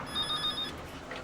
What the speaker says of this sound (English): the phone rings for no reason